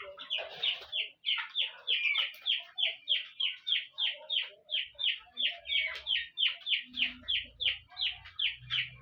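Three-week-old poultry chickens on a farm in Nigeria make steady, close, rhythmic chirping and clucking, a dense run of repeated calls with faint background bumps and shuffling.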